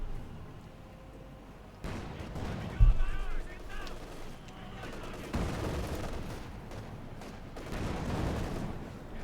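Gunfire in a Company of Heroes 2 battle in the ruins of Berlin, sharp bursts of shots and heavier artillery-like thuds amid a rumbling wartime din, moderately loud with a steady battle bed.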